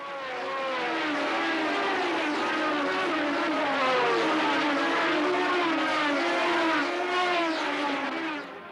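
Formula One race cars from 1974, with a Brabham BT44 leading, scream past at the race start in a dense, continuous high-pitched engine roar with wavering pitch, loud and sustained.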